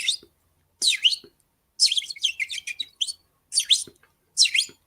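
Small birds chirping in short bright bursts, about five separate clusters of high tweets spaced across a few seconds with brief silences between, fairly close and clear with no talking.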